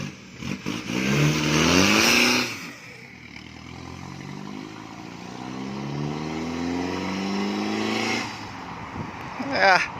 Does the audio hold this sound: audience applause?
no